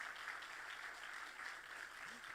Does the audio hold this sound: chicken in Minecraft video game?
no